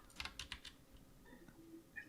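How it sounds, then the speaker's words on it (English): Computer keyboard clattering during a Minecraft building session, a short burst of quick, faint clicks at the start, then a few scattered taps trailing off. "I heard Harry's keyboard. I heard the clickety clack."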